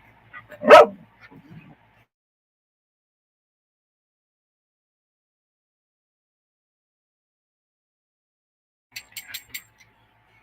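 A dog gives one loud bark close by near an awning, followed by a few faint short sounds. Then a long silence, and a quick cluster of soft yips near the end.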